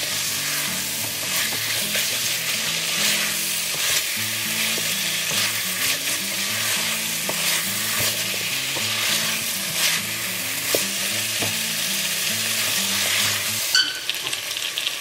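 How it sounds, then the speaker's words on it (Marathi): Boiled potatoes fry in a pot of Goan meat stew with a constant close sizzle, broken by scraping stirs of a spoon against the pan, and nobody speaks. "आता घालता हांव हे बॉयल्ड पोटॅटो."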